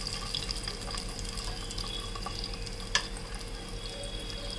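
Garlic ginger paste frying in hot oil for kadai paneer makes a steady, faint hiss with one sharp click midway and no talking.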